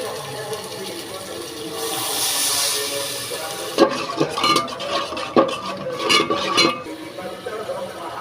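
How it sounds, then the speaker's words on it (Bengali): Water is poured into hot fried spice paste of ground turmeric, chili and salt, giving a steady hiss and then a series of sharp clatters and bubbling sizzles. "এখন আমি পানি দিব।"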